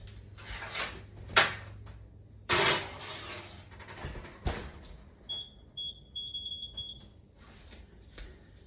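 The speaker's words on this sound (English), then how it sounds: "there goes my timer" A kitchen timer goes off during cooking, a steady high-pitched electronic beeping of several short pulses heard close by, mixed with scattered clatter and handling noises in the kitchen.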